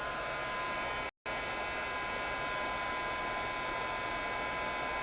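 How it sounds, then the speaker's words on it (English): A heat tool blowing hot air to melt embossing powder, a steady loud whooshing hum that runs throughout with one very brief cutout near the start, no talk. "So I'm going to go ahead and start embossing this now."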